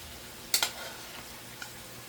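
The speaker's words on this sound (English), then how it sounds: "So right now I'm just going to give it like a quick stir fry" Cooked cassava with onions and garlic gets a quick stir fry in a pan: two sharp scraping clatters in quick succession, then a faint tick against a quiet, low sizzling background.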